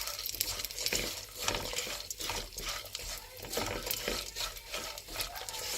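Melon seeds and sliced coconut frying in ghee while being stirred in a pan: quiet, rhythmic scraping strokes repeat every half second or so over a soft, steady sizzle.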